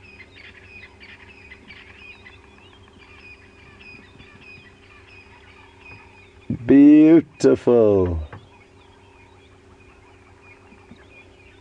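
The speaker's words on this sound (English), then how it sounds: "And listen to all the birds." Birds call through the African bush at sunrise, with soft chatter throughout and a burst of loud, honking calls near the middle. A person speaks briefly.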